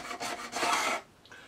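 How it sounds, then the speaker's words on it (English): Sandpaper rasping across the wooden cabinet of a Bush VHF 41 radio, a few quick close strokes building to one long firm scrub before it stops abruptly. "give it all a good sand down"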